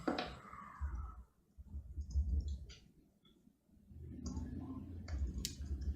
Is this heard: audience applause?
no